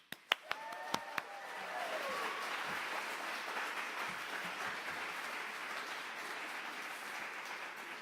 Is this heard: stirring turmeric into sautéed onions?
no